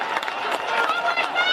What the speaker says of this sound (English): And the Stone Cats crowd quite audible now.